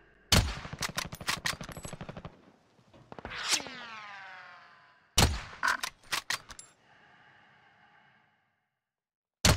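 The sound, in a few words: gunfire in the video game Call of Duty: Warzone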